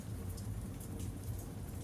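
Rain falling on windows at night, a soft steady patter and hiss of drops, faint and continuous with a low rumble beneath.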